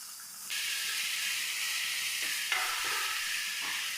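Sliced onions with salt sizzle and fry steadily in a hot pan, a loud continuous hiss that jumps up after a moment and holds, with faint stirring shifts, no talking.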